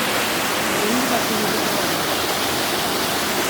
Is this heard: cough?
no